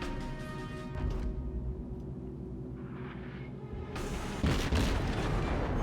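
Naval battle explosions in the video game World of Warships, with deep booming blasts and rumbling, a heavy burst at the start and another louder one near the end.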